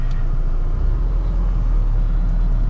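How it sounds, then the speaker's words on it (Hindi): A Mahindra Bolero engine runs while driving, heard from inside as a loud, steady low rumble with road noise and no one speaking. "गाड़ी के इंजन साउंड तो क्या ही सुनाऊँ"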